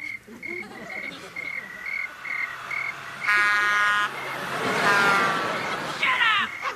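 A tape recording of trailer park night sounds plays steady, pulsing cricket chirps alongside croaking frogs and buzzing insects, a dense outdoor chorus at moderate volume with brief louder rasping bursts.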